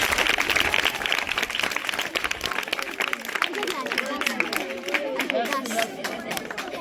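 Audience applause at an international educational environmental forum in Cotonou, Benin, dense clapping mixed with crowd chatter and cheering voices that carries on throughout.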